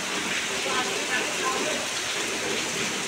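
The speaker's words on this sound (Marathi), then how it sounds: "बेकार पाऊस पडलाय।" Heavy downpour during a spring storm in Konkan, falling steadily as a dense, constant hiss with no distinct drops, close and loud throughout.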